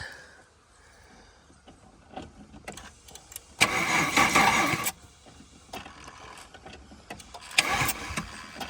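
A neglected Holden VY Commodore engine cranks over on a weak jump starter, with quiet clicks and rustling, then two loud grinding bursts of the starter turning the engine, neither catching.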